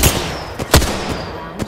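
Gunfire in Apex Legends, a few sharp, loud shots spaced irregularly over a couple of seconds amid steady background game noise.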